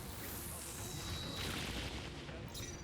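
Fiery spell blast in a fantasy RPG battle, a steady roaring whoosh of flame with a falling sweep and a sharp burst near the end, loud and continuous with no talk.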